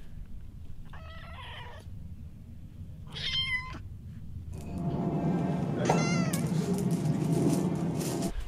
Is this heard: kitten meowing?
yes